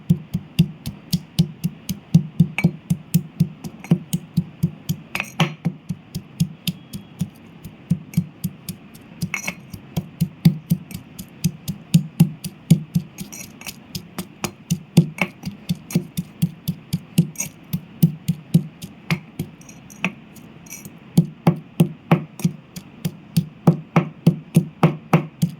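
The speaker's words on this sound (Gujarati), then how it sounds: "આપણે એને આવી રીતના ખાંડી લઈશું." Coriander-cumin powder and salt are pounded for a drumstick-potato sabji in steady, rapid thuds, each a sharp knock, repeating evenly and close for the whole stretch with no talk.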